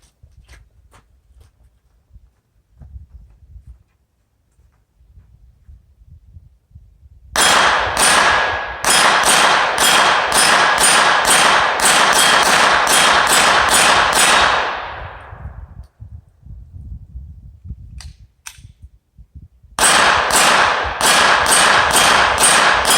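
A Taurus TX-22 pistol fires rapid strings of loud, sharp shots, with a long burst, a pause with faint handling noise, then another fast volley near the end.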